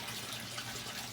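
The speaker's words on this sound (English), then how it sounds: "all the extra water comes right back down to the sump tank and circulates one more time" Water running back into an aquaponics sump tank, a soft, continuous splashing trickle like a tap filling a basin, fairly quiet and steady.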